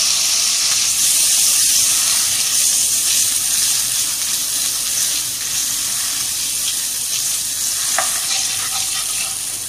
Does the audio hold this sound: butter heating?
yes